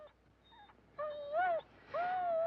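A dog in a domestic sitcom scene whimpers and cries close by in thin, rising and falling whines, three separate cries that grow longer toward the end.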